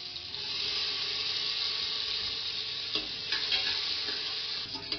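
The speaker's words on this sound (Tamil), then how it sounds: "நறுக்கின வெங்காயத்தை போட்டு வதக்குங்க." Steady sizzling of chopped onions frying in sesame oil, with occasional stirring scrapes and clicks, close and continuous without any talking.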